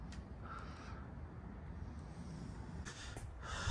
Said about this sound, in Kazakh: Неше түрлі құстар бар.